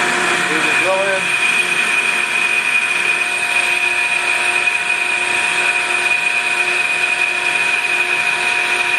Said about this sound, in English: move the drill in